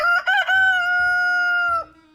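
A young rooster that has lost its tail crows once, loud and close, a long sustained call with a rising start, over faint low background rumble.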